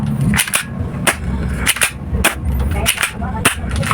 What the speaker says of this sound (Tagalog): lakas ng putok mga lods ah